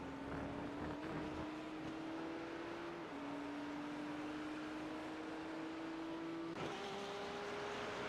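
Sim race cars lapping Road America in iRacing, a steady engine drone holding a rising pitch that drops sharply at each gear change, continuous and fairly close with no voices.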